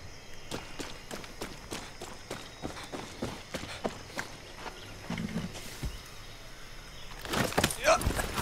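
A horse's hooves clip-clop in a steady, evenly spaced rhythm across open ground in the Far Cry 6 video game, building to a louder flurry near the end, with a voice speaking over the hoofbeats.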